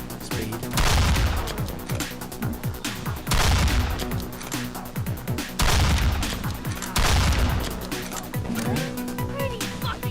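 Bursts of gunfire from Danganronpa: Trigger Happy Havoc come in four loud, booming volleys, each a cluster of rapid shots that then tails off, repeating at steady intervals across the clip.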